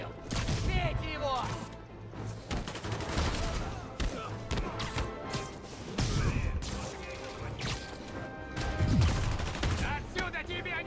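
Gunfire and fighting in the video game Marvel's Spider-Man: bursts of shots, crashes and thuds in a dense, busy mix with voices talking over the action.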